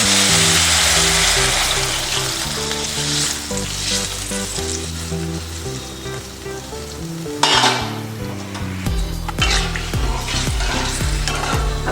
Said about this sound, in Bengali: এরপর আমি চিকেনের স্টকটা দিয়ে দিলাম এর মধ্যে